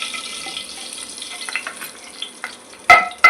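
Asafoetida, cumin and whole garam masala sizzle in hot oil, a soft steady frying hiss close by, with a few faint stirring scrapes and two sharper clinks of a utensil against the pan at the end.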